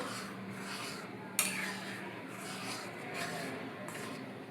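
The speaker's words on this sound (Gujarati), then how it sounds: "સોજીનો લોટ ઉમેરતા સતત આ રીતે ચલાવતું રહેવાનું છે, જેથી લોટ સરસ રીતે મિક્સ થઈ જાય અંદર." Semolina being stirred steadily into boiling buttermilk in a cooking pot for upma, a soft continuous scraping and rubbing of a spoon against the pan with one sharper clink early on.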